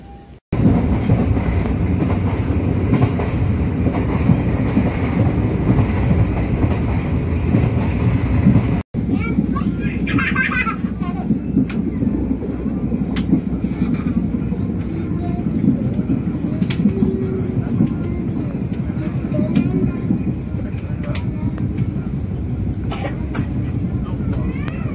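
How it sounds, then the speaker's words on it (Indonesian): Indonesian passenger train Dharmawangsa running on rails between Pasar Senen and Surabaya, heard from inside a carriage as a loud continuous rumble and rattle with faint clicks, under a train announcement. "Saat ini kereta api Anda sudah tiba di stasiun Weleri."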